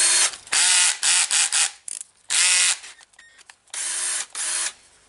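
A Milwaukee M12 drill fitted with a replacement AliExpress motor spins up in short, loud trigger bursts, whirring sharply for a second or so at a time with brief silent gaps between.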